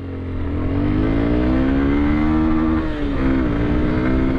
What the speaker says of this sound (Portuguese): vamos esticar todas as marchas e ver qual que é a desse motorzinho